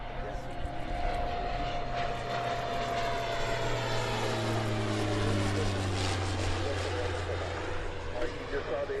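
A German-built high-altitude surveillance aircraft serving as an air show towplane drones overhead with a steady engine roar that slowly shifts in pitch as it passes, a voice talking over it throughout.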